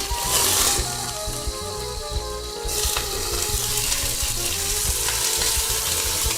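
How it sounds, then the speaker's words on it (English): An egg fries in hot oil, giving a loud, continuous, close crackling sizzle with popping spatter throughout and no voices. "It's sizzling."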